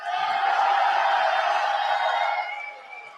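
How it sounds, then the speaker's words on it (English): An arena crowd roars loudly and steadily as a dense wash of cheering voices, then fades toward the end. "It's getting loud in here. The crowd are going."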